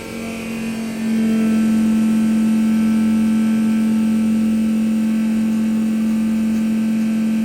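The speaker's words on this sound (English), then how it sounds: "we're gonna try to start it and see if it runs." A no-prep drag car, its engine cracked after a highway breakdown, starts about a second in with a jump in level and then runs at a steady, loud idle with a strong tonal hum, nearby and alone.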